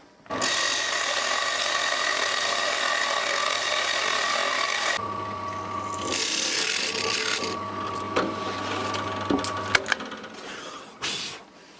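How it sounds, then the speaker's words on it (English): Steady, loud grinding rasp of a Forstner bit boring into wood for about five seconds, then a lower motor whine with intermittent scraping and a few sharp knocks near the end. "In order to get a perfectly smooth hole right through, I'm going to drill in from both sides."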